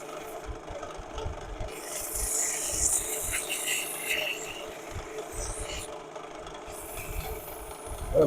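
Wood is sanded on a lathe while a birdhouse is turned, giving a soft rasping rub that swells and fades over a low motor hum, with no speech.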